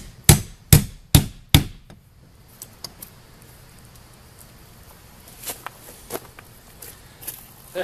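A hammer drives a couple of scratch holes to hold a door hinge in place: four sharp, loud strikes in quick succession, then scattered lighter taps and knocks.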